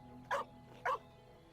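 A dog in the Genshin Impact video game gives two short, clear barks about half a second apart over a quiet ambient background, with no talk.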